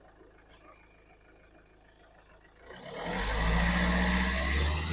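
A 2014 Mahindra XUV500 W8 diesel engine is quiet at first, then settles into a steady, close idle hum with a low, even throb that holds to the end.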